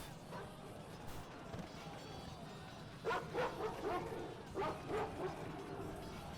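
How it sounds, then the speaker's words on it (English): War dogs in Total War: Rome Remastered bark and yelp in two clustered bursts of several barks each over battle ambience. "War dogs! Charge!"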